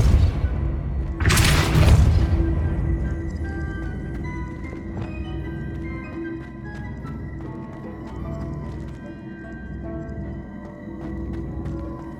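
A spell cast in Hogwarts Legacy, a loud whooshing burst near the start followed by a sustained low rumbling game ambience with faint tonal layers, no talk.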